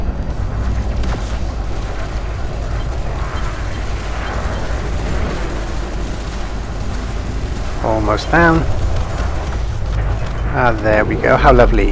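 A spaceship explodes in the space combat game Elite Dangerous, a loud rumbling blast that swells and lingers under a steady engine drone while someone speaks briefly over it.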